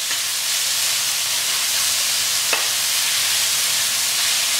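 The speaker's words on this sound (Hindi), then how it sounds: "ये हमारे जो टमाटर हैं इन्हें हम बढ़िया सोते कर लेंगे प्याज के साथ।" Tomatoes and onions sautéing in a pan for Kolhapuri chicken, giving a steady broad hiss of sizzling oil with a single brief stir click midway, close and without talk.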